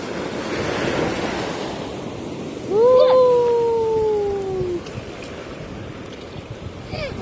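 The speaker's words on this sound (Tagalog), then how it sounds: "Kasi ang lakas naman kasi ng alon," Strong sea waves surge and wash steadily near a tourist shore at Taishan, China, under loud wind buffeting the microphone, with a brief whistling tone riding over the surf midway.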